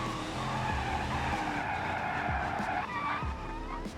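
A muscle car slides in the RLS racing video game, its tires squealing loudly and continuously under a revving engine for several seconds.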